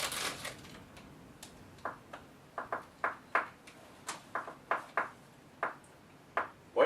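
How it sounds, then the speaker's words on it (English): A phone screen is tapped out in Morse code, giving a quiet series of sharp, irregular clicks in short groups over a faint background, with no voices. "Why are you tapping your phone like that?"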